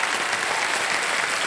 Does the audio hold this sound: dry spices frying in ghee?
no